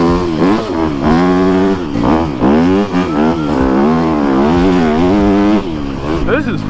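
A Yamaha YZ dirt bike revs and shifts repeatedly while riding through sand at an off-road park, its loud, close engine rising and falling in pitch over wind noise and a talking rider.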